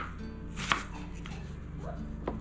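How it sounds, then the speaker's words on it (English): Onions are chopped with a knife on a board in a few distinct sharp strikes over a steady background hum, close up and fairly quiet. "so onions chopped"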